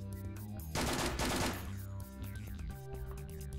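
A short rapid burst of gunshots from a rifle in the shooter game The Stalin Subway 2: Red Veil, fired in a rooftop escape, standing out briefly over steady game ambience.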